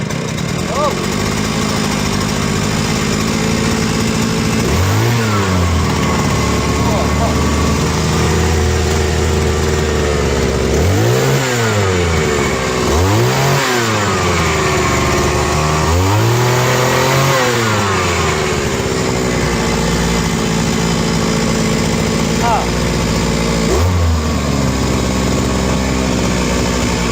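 A small engine that has just been repaired runs loudly and roughly nearby, revving up and dropping back in repeated surges while the choke is worked to bring it down, with a voice talking over it.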